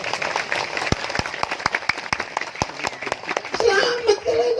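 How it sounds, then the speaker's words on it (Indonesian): Audience at a religious gathering in Cirebon clapping in a loose, scattered rhythm of sharp claps, with a speaker's voice talking over them. "Lha tepuk tangan sing banter lho"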